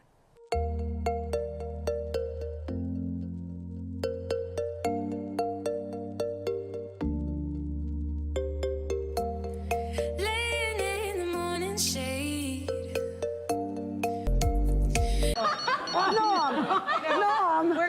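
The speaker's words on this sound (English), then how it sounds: "Dude, you got a phone ringing." A telephone rings with a repeating electronic melody playing on over a steady rhythmic pattern, then gives way to voices and laughter near the end.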